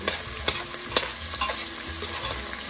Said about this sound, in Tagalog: Ligisa niya ang sibuyas at bawang.